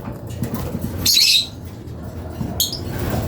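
African lovebirds give a few short, sharp chirps close by, one burst near the start and a brief second call later, over a steady low background rumble.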